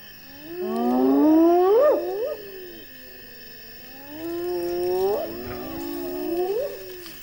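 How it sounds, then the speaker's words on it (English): Hyenas whoop and call near a lion kill on the Zambezi floodplain in a series of rising, wavering howls. The two loud bouts are close and separated by a quieter stretch, and no voices are heard. "Hyenas, the lion's eternal rivals, are quickly on the scene."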